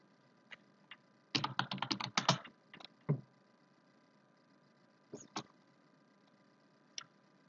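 Computer keyboard typing during a live online class: a quick burst of clustered key clicks, then a few isolated taps spread out over quiet moments, close and clear with no voices.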